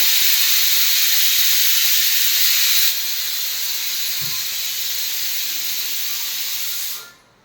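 A loud, continuous steam-like hiss that holds steady for several seconds, drops a step in level partway through, then tapers off abruptly, heard during a home party game.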